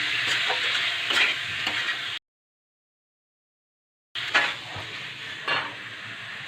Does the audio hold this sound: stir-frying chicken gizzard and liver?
yes